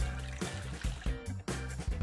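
Warm water splashes and trickles as it is poured to rinse a Tupperware container, with an uneven, gurgling flow broken by short pauses.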